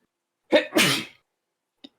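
A single sharp human sneeze, close and loud, with a short gasping intake before the burst and then quiet apart from a tiny click.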